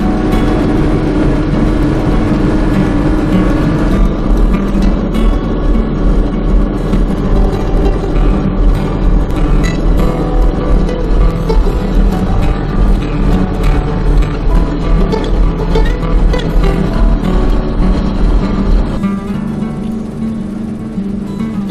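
A big Massey Ferguson combine harvester with a power flow header drives along, its heavy engine droning steadily and loudly with continuous rumble and rattling, dropping lower near the end.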